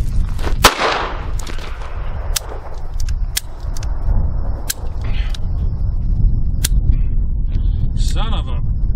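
A Bearman 9mm derringer cracks out sharp, scattered gunshots at an outdoor shooting range, with a wind-like rumble underneath and people talking throughout.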